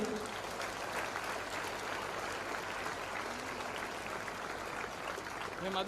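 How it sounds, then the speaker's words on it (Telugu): Applause fills the whole stretch at a public event, a steady dense wash of many hands clapping together at moderate distance, with a faint voice briefly cutting through near the end. "క్లాప్స్"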